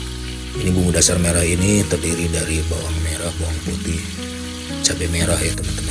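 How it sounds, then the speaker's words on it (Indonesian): Red spice paste of shallots, garlic and chili with lemongrass, galangal and lime leaves sizzling loudly as it sautés in a pan for chicken opor, a steady frying hiss under someone talking. "dan ditumis kembali biar wangi"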